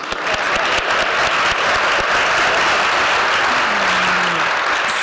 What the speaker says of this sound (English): If you'd like to clap now, you can already.